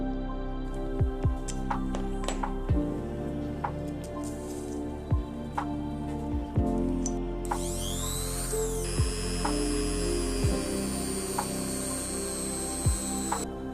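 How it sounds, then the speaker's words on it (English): A small drill bores a hole in a resin-and-cotton wave base for a 1/600 scale model ship, its high whine starting partway through after a stretch of low hum and scattered faint clicks. "Drill a hole to put the light string in."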